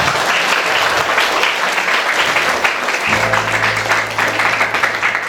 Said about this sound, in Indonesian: Pengen ditepuk tangan,